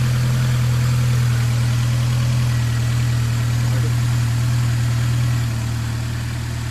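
A Nissan Altima engine idles steadily after ignition coil replacement, with a deep, constant low hum and faint mechanical chatter, close by and unbroken throughout.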